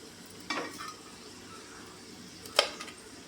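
Potatoes fry quietly in oil for aloo dum under a soft background sizzle, interrupted by two brief clattering stirs or utensil scrapes against the pan.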